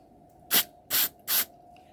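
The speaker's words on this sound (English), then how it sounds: "when you apply from the other side, you should see the carburetor cleaner going through that hole." Carburetor cleaner sprayed onto Stihl FS45 trimmer carburetor parts in three short, sharp hissing bursts, close and clear against quiet.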